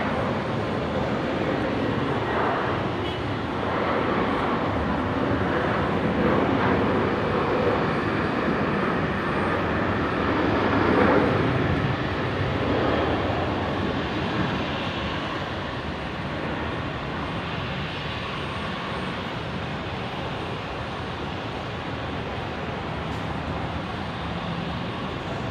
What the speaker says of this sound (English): Here we go, next departure, Qantas